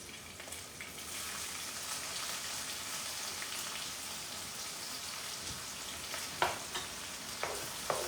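Onions sizzle and fry steadily in a non-stick saffron wok on a home stove, a dense crackling hiss throughout with a few brief louder stirring scrapes near the end, no talking.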